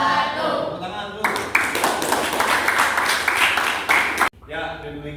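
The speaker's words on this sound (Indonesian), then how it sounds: "Tepuk tangan dulu." A class of eighth-grade students claps together after a presentation in an Islamic education lesson: a burst of lively, crowded clapping lasting about three seconds, with speech heard before and after it.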